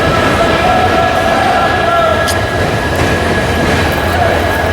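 The Gomteshwara Express arrives at a station on the Yesvantpur to Mangaluru route with a loud steady rumble of wheels and carriages, a faint squeal riding over the roar.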